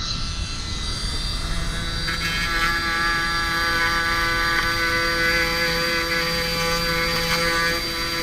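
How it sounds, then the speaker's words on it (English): A sandpaper roll on a rotary tool grinds the port of a cylinder head, a loud, steady, high whine running unbroken with no talk. "Sandpaper roll, it doesn't leave too deep a groove."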